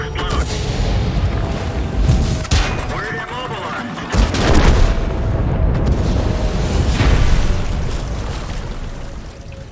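A tank's ammo rack blows up in a tank combat video game, a loud booming blast amid rumbling gunfire and explosions, with a voice talking over it.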